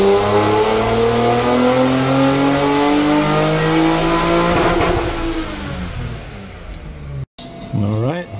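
A turbocharged Nissan VR30 engine running on E85 fuel revs loud and close in a car, sweeping up and down through long climbing harmonics before a brief cut and a final blip.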